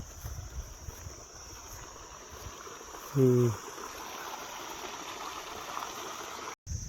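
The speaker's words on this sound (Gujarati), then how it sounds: "આ ટાઈપનું કેનલમાંથી પાણી તલાવડીમાં આવે છે" Soft continuous rush of canal water flowing into a small pond in the open air, fairly distant, with a brief tonal hum from an engine or horn midway.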